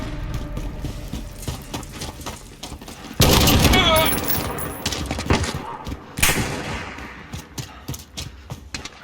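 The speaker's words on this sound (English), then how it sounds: "Heard that sniper shot." Call of Duty: Modern Warfare hardcore multiplayer with a sharp, loud sniper rifle blast standing out among scattered gunfire and mechanical clicks, followed by another burst a few seconds later.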